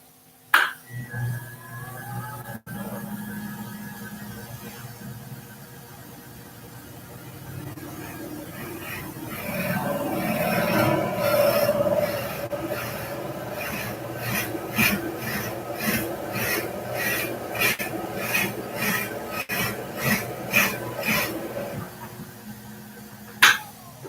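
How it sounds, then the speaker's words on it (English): A wood lathe turning while a drill bit bores through a wooden pen blank, a low hum rising into grinding and chattering cutting noise with rhythmic pulses as the bit is backed out to clear the flutes, ending in sharp clunks. "We turn the lathe on, we get the speed we want, and we drill through the wood."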